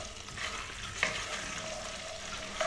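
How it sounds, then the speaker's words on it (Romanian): Sliced garlic fries in hot oil left from earlier cooking for a country rooster stew, giving a steady close sizzle with soft crackles and one brief stir or clink partway through. "Apoi în același ulei adăugăm usturoiul felii. Îl lăsăm cam un minut să se rumenească."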